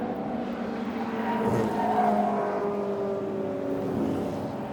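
Pre-1966 touring race cars, among them a red and gold Mustang and Lotus Cortinas, roar around Silverstone in a steady loud drone of engines with pitch rising and falling as cars pass, with no voices.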